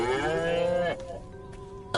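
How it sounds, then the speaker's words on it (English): A cow moos in the video game Destroy All Humans, one long drawn-out low call followed by a quiet pause and a small click. "Again with the moo?"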